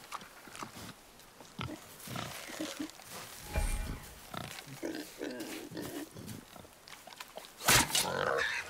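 A wild boar in the God of War video game grunts and snorts at close range amid game sounds, with speech mixed in and a loud burst near the end.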